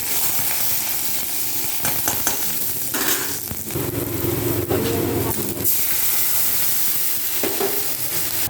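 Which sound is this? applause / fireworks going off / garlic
garlic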